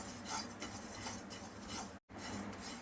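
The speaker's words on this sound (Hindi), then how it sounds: "अब यहाँ 1 टेबलस्पून जितना सफ़ेद तिल को सूखा भूनते हैं।" White sesame seeds dry-roast in a pan while being stirred, with light scraping and faint metallic clinks from the utensil, continuous and close, broken by one brief silent cut.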